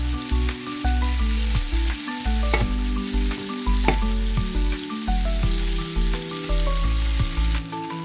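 Butter sizzles loudly in a hot pan with frying shrimp, a constant close crackle broken by stirring clatters and spatula knocks.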